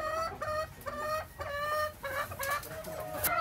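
Purebred White Kelso hens cluck in a steady, close series of repeated calls with no talking.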